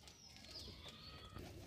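A male pigeon kept for sale in Lucknow coos softly, a brief low murmuring call heard faintly amid quiet chirps and background bird noise.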